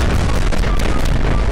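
Dense, booming blasts of bombs exploding in quick succession in Garry's Mod, heavy low rumble with crackling bursts, loud and close throughout.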